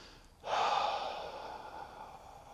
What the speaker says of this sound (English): So a full breath looks like this.